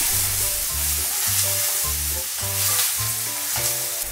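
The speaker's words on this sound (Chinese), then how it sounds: "把蒜头和姜丝丢进去，把它们拨到锅子的空隙处稍微炒香一下" Garlic and shredded ginger sizzle and crackle in a hot oiled wok beside frying crucian carp, with loud continuous frying and a few scraping stirs, close and alone.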